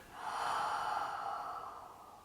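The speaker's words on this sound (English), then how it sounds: "Breathing out anything that needs to end." A slow, deep exhale during a guided yoga breathing session, a broad soft rush of breath that swells and then gradually fades over about two seconds, close and alone.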